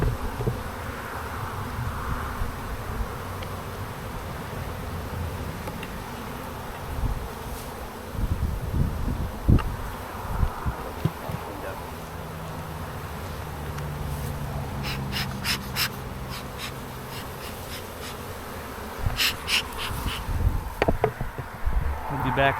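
Honey bees buzz around an open hive during a spring inspection, a close, steady swarm drone with individual bees flying past the microphone and occasional handling noises.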